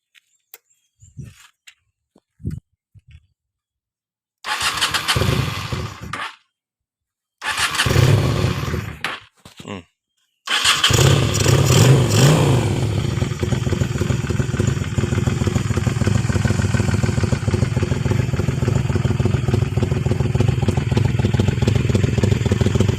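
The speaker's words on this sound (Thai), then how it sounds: "ลองฟังเสียงเครื่องยนต์ดู" A Yamaha Steed 400 motorcycle fitted with a single carburetor cranks in a few short bursts with gaps, then catches and settles into a loud, steady, close idle with a throbbing rumble.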